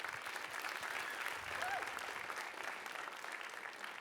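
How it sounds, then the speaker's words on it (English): Applause from a school audience at a writers' week session, a continuous moderate wash of clapping that holds steady throughout without any clear voices. "All right, clap it up."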